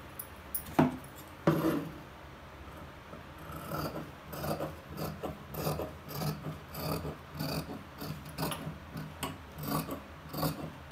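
Scissors cut through fabric for a princess-cut pattu pavadai dress, making repeated soft rasping snips in an irregular rhythm, close and fairly quiet, with a couple of sharper handling thumps at the start and no talking.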